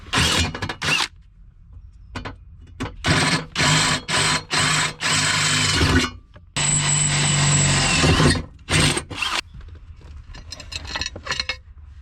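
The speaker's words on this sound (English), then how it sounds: "Currently drilling holes" A power drill whirs in a series of short and longer bursts, drilling holes on an FC RX7 restoration, close by, with pauses between runs and some rattling handling noise.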